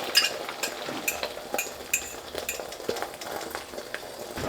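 Eggs cooking in olive oil for Spam and shrimp fried rice, a soft close sizzle with irregular utensil scrapes and light clinks as they are stirred in the pan, no voices.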